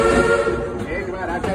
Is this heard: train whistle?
yes